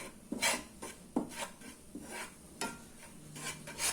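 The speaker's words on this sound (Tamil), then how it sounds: "இப்போ இந்த பேன்லேயே நம்ம வந்து கோதுமை மாவு போட்டு வறுத்துக்கலாம்." Wheat flour being stirred and roasted in a pan over a medium flame for moong dal halwa, with intermittent scraping strokes of a spoon against the pan, close and fairly quiet with brief pauses between strokes.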